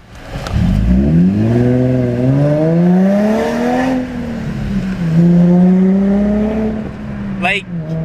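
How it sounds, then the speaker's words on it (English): An Infiniti G35 fitted with an ultra quiet resonator pulls away in a small launch, its engine note climbing through the gears with one shift midway, heard loudly from inside the car, with a brief voice at the end. "I'm gonna do a small launch once we take off here."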